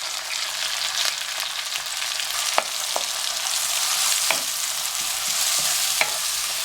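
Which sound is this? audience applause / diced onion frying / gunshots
diced onion frying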